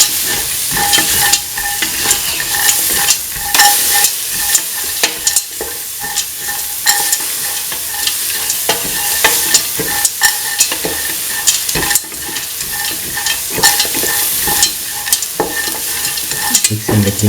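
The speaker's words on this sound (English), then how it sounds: "mixing the green peas with the rest of the mixture." Green peas being stirred into a sizzling cooking mixture, with steady frying hiss and repeated scraping strokes of a spoon against the pan, close and continuous.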